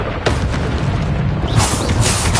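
A Bombarda spell explosion in Hogwarts Legacy, a loud deep boom with a rumbling burst that swells again partway through, alone in the mix.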